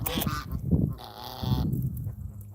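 Pet geese honk repeatedly near a pond, loud close calls in bursts, with a sustained higher honk in the middle and overlapping lower calls.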